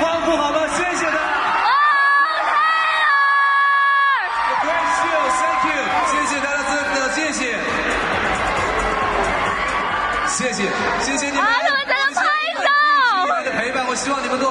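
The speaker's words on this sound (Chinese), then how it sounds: "要是再次欢呼好吗？" A large concert crowd at a Tmall Double Eleven show cheering and screaming again, loud whoops and high shrieks rising in waves, with a voice talking over the cheering at times.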